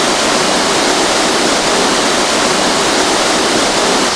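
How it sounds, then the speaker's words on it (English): Spring-fed waterfall on the Big Sur coast, a loud, constant roar of rushing, splashing water filling the whole clip, heard up close with no voices. "Because the waterfall's right down there."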